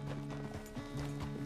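Horse hooves clip-clop in quick rhythmic steps in Red Dead Redemption 2, a short burst of trotting beneath low music in the background.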